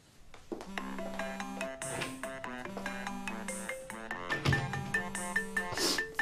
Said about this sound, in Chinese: 你接电话吧